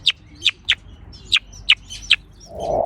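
Short, soft bird calls, about seven brief high chirps spaced unevenly and heard fairly near and alone, followed by a rising rustling or breathy noise at the end.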